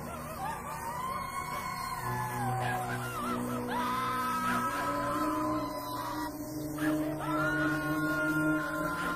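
A woman in a horror film screams and wails in pain as she struggles, long drawn-out cries rising and falling over a noisy, droning musical background, with no clear speech.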